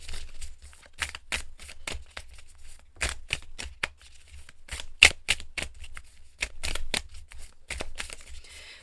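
Oracle cards shuffled by hand in a steady run of quick, crisp riffling bursts with short pauses between them, close and fairly soft, with no talking.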